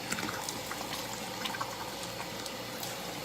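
Running water rinses a face mask off skin at a bathroom sink, a steady close splashing and trickling stream with no talking.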